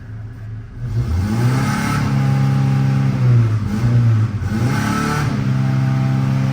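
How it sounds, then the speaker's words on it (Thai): A car engine revs repeatedly as the accelerator is pressed during a mechanic's test for a stumbling, hesitating engine, loud and close with rising and falling surges over a steady idle, no talking. "อันนี้เหยียบคันเร่งไว้นะ ดูคันเร่ง ลงเองนะ น่ะเหยียบคันเร่งนะ"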